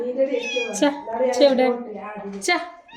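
A cat meows repeatedly up close, a string of drawn-out, wavering mews with brief gaps between them.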